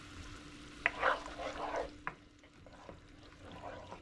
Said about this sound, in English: you're gonna let this simmer for about 5 minutes or so